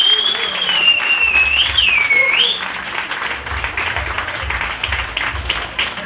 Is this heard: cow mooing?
no